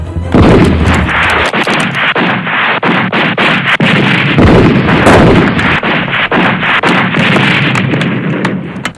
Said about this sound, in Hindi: दोनों तरफ से गोलियां चल रही हैं